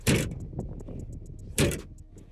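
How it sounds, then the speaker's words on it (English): The undamped tailgate of a fourth-generation Toyota Tacoma SR5 pickup drops open with two loud thuds about a second and a half apart, with faint regular clicking between them. "starting at the caboose, the tailgate is not damped"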